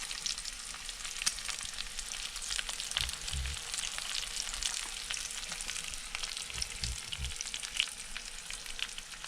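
Large breaded fish pieces sizzle and crackle steadily in a frying pan at a winter fishing camp, close and continuous with occasional soft stirring sounds.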